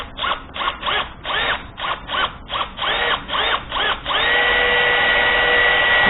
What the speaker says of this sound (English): Left-handed bit had enough to pull it out without even having to drill much on there